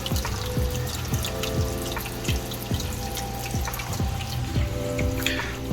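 A Seachem Tidal 55 aquarium filter and surface skimmer keep water flowing in a steady trickling, splashing stream with soft gurgles and light drips, close and continuous with no talk.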